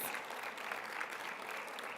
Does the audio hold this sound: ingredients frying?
no